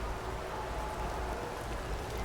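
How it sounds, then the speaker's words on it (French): Rain in the video game Starfield makes a soft, steady hiss of falling water, fairly faint and unbroken throughout, with no talking over it. "Chaque fois que j'arrive ici, il pleut."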